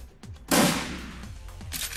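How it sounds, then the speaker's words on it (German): Gunfire in the video game Shadowrun Returns: one loud broadband shot bursts out and decays into a noisy tail, with fainter crackles around it and a second burst near the end. "Erstmal auf dich schießen."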